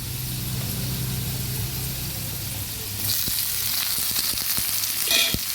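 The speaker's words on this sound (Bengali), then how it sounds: "এবার দিয়ে দেব পেঁয়াজ কুচি।" Chopped onion goes into hot oil with panch phoron and dried red chili. A steady, close sizzle runs throughout and turns brighter and louder halfway as the onion hits the pan, with a few stirring scrapes.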